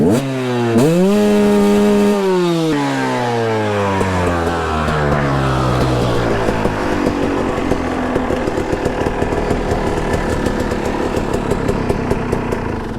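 A 2009 KTM 250 EXC two-stroke motorcycle engine revs hard and loud, sweeping up, briefly holding, then settling into a rapid crackling, buzzy run that stays close and continuous with no talk.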